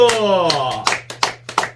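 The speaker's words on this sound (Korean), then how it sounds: "그렇지요, 박수" A handful of sharp, separate hand claps ring out in a church's youth Sunday worship service, following a voice that speaks first, then trailing off into a few scattered claps.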